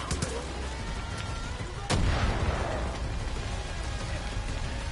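A proximity bomb detonates in Far Cry 5 with a single loud burst about two seconds in, its boom rumbling and crackling under a steady noisy backdrop of fire and ambience.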